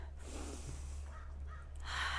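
A person demonstrates hyperventilating with a few quick, sharp, gasping breaths, close and fairly loud over a steady low hum.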